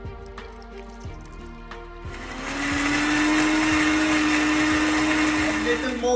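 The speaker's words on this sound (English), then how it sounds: "Add all the spices in a blender." An electric blender grinding spices with vinegar and water starts up after a few soft knocks and clatters, then whirs loudly and steadily, a high motor whine with gritty grinding underneath.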